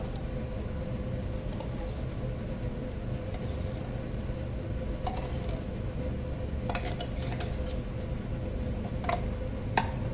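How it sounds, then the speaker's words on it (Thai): A beef Bolognese sauce with tomato concentrate is stirred in a pot, a steady low bubbling bed with scattered light clinks of the utensil against the pot, close and even throughout. "รับแล้วก็คนให้เข้ากันนะจ๊ะ"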